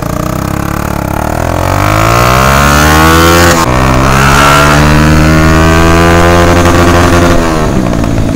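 Two motorcycles, a Bajaj NS200 BS4 and a Yamaha Enticer 125, rev hard and accelerate in a drag race, engines loud and close with rising pitch, a brief gear-change dip midway, then climbing again.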